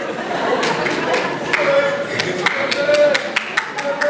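An audience applauding at a school talent show evening, scattered claps over a busy murmur of crowd chatter and voices, moderately close, with a few sharper individual claps standing out.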